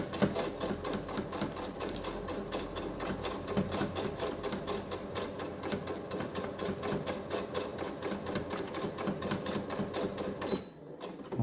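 A sewing machine stitches fabric for a zero-waste soap pouch, its rapid even needle rattle running continuously and loud up close for about ten seconds before it stops abruptly.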